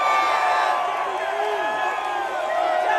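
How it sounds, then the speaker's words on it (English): A crowd cheers and whoops at a speech, a sustained wash of voices with shouts rising out of it, heard from within the audience at a steady level throughout. "Thank God the cheering went on for a while."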